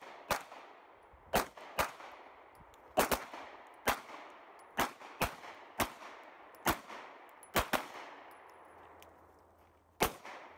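Sig P365 pistols fire at a shooting range, about a dozen sharp, loud individual gunshots at irregular intervals, each with a quick ringing decay, and no talk between them.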